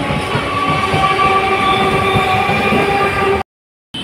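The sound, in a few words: train arriving at station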